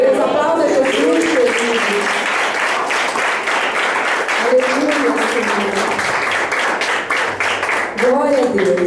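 A church congregation applauds during a service, sustained crowd clapping at full strength throughout, while a voice speaks over it at the start, in the middle and near the end.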